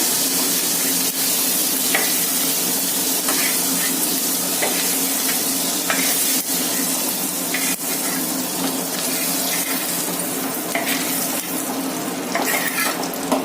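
Crabs frying in oil in a wok in a village kitchen, a loud, constant close-up sizzle with bursts of crackling and spatter, and no voices.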